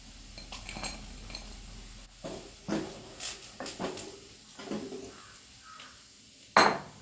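Fried chicken scooped out of hot oil into a dish for chicken mezhukkupuratti, with scattered clinks and scrapes of a ladle against metal pans, a faint background sizzle, and a sharper clatter near the end.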